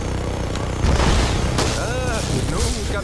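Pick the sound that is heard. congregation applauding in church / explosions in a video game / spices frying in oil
explosions in a video game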